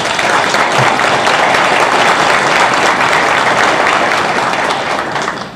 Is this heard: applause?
yes